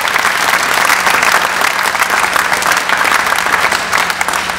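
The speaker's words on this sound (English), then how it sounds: "Give our Hamptonian a round of applause." An audience at a university Founders Day ceremony breaks into loud, sustained applause, a dense wash of clapping that holds steady throughout with no pause.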